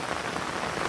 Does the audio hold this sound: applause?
no